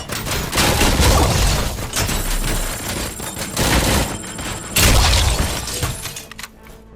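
Dense gunfire from the RoboCop: Rogue City video game, with loud overlapping bursts and shattering impacts that run nearly nonstop before fading at the end.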